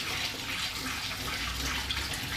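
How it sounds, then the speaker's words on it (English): Running tap water pouring steadily into a sink during washing up, a continuous close rushing hiss with no pauses or talking. "And I even do the washing up, ladies"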